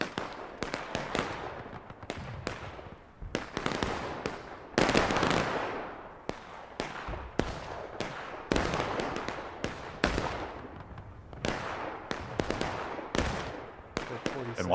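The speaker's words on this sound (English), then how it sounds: "artillery strike right into him" Cannon fire and shell bursts in a Civil War battle in the game War of Rights, a dense run of sharp, loud booms and crackling blasts, repeated irregularly and closely spaced throughout.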